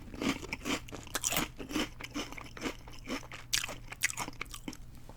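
Close, loud crunching of sour cream and onion potato chips, thicker than regular Lay's, with repeated sharp bites and chewing in an uneven rhythm across the whole stretch.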